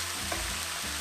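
Fennel being stirred in a pan for a salmon dish with leeks, a steady close sizzle of frying with faint stirring movement, no talk.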